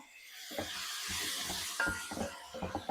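Tomatoes hit a hot pan for a bean coconut curry with a broad steady sizzle and hiss, joined by soft stirring scrapes and a few light knocks.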